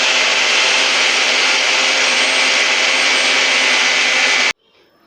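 A Bosch GTS 10 XC table saw runs at full speed with a loud, steady, close whine for several seconds, then is cut off abruptly, leaving a faint low hum.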